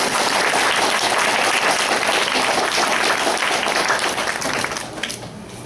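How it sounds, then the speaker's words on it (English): Guests at a graduation party give the graduate loud, dense applause that runs steadily and then thins out toward the end. "Please give the graduate a heartfelt applause."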